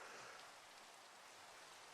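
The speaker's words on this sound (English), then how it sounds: "this rain's annoying the shit out of me" Rain falls in Minecraft as a steady, even hiss of drops, constant and soft with no other sounds over it.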